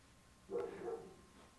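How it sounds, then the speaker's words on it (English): A neighbor's dog gives a single faint bark in the distance, then it goes quiet. "You hear that dog faintly barking?"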